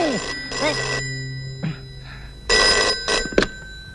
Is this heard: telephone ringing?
yes